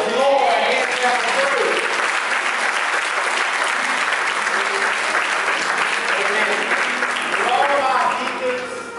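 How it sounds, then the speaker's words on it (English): A church congregation breaks into a loud, sustained round of clapping in praise, with voices mixed in and a slight fade at the end. "Let's give the Lord a hand clap of praise."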